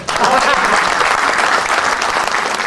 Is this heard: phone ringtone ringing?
no